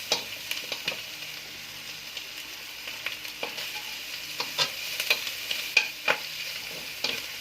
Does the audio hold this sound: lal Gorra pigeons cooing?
no